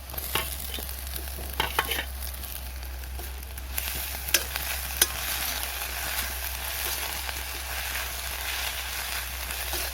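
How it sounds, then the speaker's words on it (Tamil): Onions and ginger-garlic paste sauté in a pan for country chicken intestine curry, with a steady sizzle, scattered spatula knocks and scraping stirs, and a low hum underneath, heard close with nobody talking. "வெங்காயம் நல்லா வதங்கிட்டு இருக்கு."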